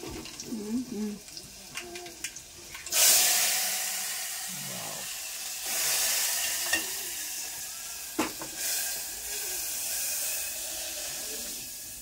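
Dal rasam stirred in a pot, with splashy stirring and hissing bursts, and people talking intermittently around it.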